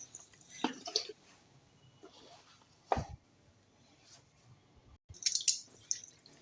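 A generous splash of vinegar is poured over raw chicken strips, giving a few quiet, close drips and wet splashes with soft handling noises between them.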